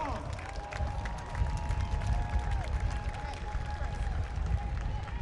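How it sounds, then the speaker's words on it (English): A large outdoor rally crowd at the March on Washington applauds and cheers for organized labor, a broad wash of clapping and voices, with a speaker's amplified voice over it. "Organized labor, y'all, give them a round of applause."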